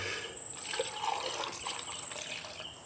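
Milk trickles and pours into a container for guava juice, a steady close liquid stream lasting a few seconds without speech.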